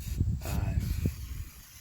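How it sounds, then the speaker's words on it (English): Brake cleaner sprays in short, loud hissing bursts onto the brake rotors of a Chrysler 200s during a brake pad change, close up, with a pause between bursts. "I'm gonna give the rotors here a nice healthy spray."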